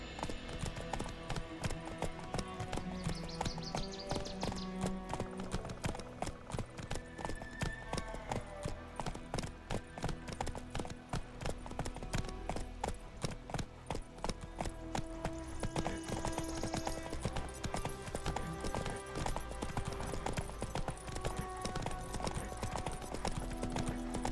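Steady clip-clop of a horse's hooves, Geralt's mare Roach in The Witcher 3, trots in an even rhythm throughout, loud and close over a soft game soundtrack.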